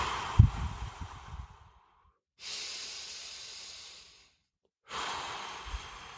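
Slow, long breaths sound close and alone, with drawn-out airy inhales and exhales and pauses of near silence between them.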